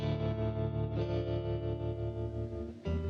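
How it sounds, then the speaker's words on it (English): Video game hub music of rusty, worn-out guitar tones, a soft, sustained chord texture with chorus and distortion, played quietly and alone with a chord change near the end. "Rusty, worn-out guitar sounds, designed to create a calming and shopping atmosphere between levels"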